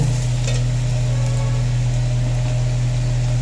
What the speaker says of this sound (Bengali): দিয়ে হলুদ গুঁড়োটাকে একটু নেড়ে নেব।